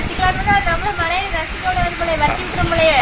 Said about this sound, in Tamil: ஆமா என்ன காத்து